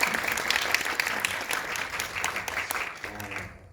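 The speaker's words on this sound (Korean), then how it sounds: "잘 전달됐으면 큰 박수." Audience applause at a film premiere screening at COEX in Seoul, a dense burst of clapping from a large crowd that holds steady for several seconds, then thins and fades out at the end.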